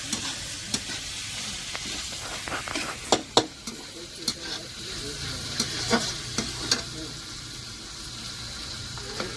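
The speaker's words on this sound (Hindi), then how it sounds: "चलिए मसाला जो है अच्छी तरह से मिला रहे हैं" A masala of ground ginger, garlic, green chili and cumin is being stirred in a pan. A spoon scrapes and clinks at irregular intervals over a soft, steady sizzle of frying, and a voice speaks briefly at moments.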